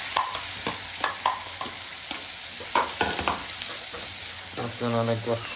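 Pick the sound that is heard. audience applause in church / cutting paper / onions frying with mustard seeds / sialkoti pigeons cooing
onions frying with mustard seeds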